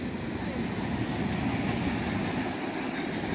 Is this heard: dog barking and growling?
no